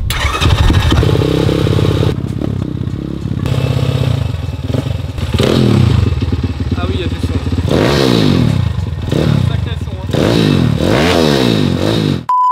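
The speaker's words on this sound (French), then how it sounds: "On va la démarrer à l'électrique tant qu'à faire." A motorcycle engine cranks on its electric starter and catches, then idles and revs in rising and falling bursts, loud and close, with some clatter.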